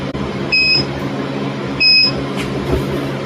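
A small countertop oven's control panel gives two short, clear electronic beeps about a second apart while being set to preheat to 350, close and distinct over a steady low kitchen hum.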